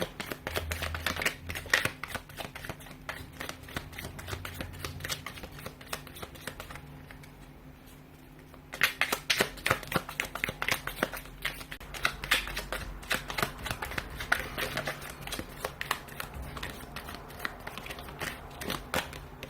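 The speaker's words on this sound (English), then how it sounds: "give the cards a shuffle" Tarot cards being shuffled in steady rustling riffles, close up, with a brief quiet break midway before the shuffling resumes.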